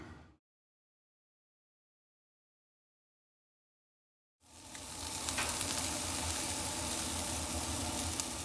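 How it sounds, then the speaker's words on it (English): Chicken wings sizzle on a Weber kettle grill, a steady, crackling hiss starting abruptly after a stretch of near silence and continuing close and loud to the end. "So we got this Weber, got this kettle going. We got some nice chicken wings going on that."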